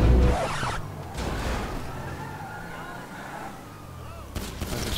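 Gunfire in the video game GTA: a loud close blast opens, followed by dull booming shots and rumbling echoes, with another sharp burst near the end.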